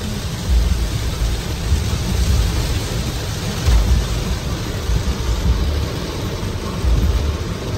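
Heavy, continuous rain pours down on a road while driving, a dense roar punctuated by low rumbling swells; no voices.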